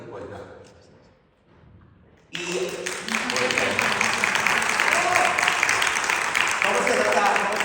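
An audience bursts into loud, sustained applause after a quiet opening, the clapping continuing steadily to the end at a round-table event.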